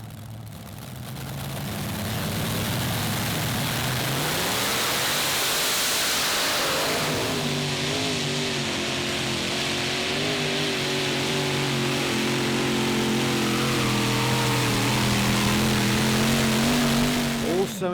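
Pulling tractor powered by six small-block Chevy V8s making about 4,500 horsepower, at a Eurocup tractor pulling event with a 2.5-ton class in Herning, Denmark: a loud, sustained multi-engine roar that climbs in pitch, with an announcer talking over it throughout.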